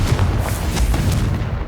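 A Confringo fire-blast spell in the Hogwarts Legacy game, heard inside a haunted Hogsmeade shop: a loud, dense, booming rumble with several thudding bursts that carries through the whole short stretch, with no talk.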